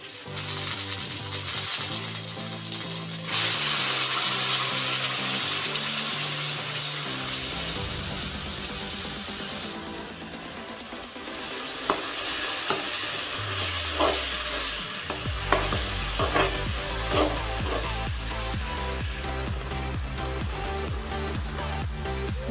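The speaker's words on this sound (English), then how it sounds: "Now add the ginger and garlic paste. Now add onion puree." Onion puree with ginger garlic paste frying in a pan for a soya chaap curry, giving a loud, steady sizzle with stirring scrapes and clatters throughout.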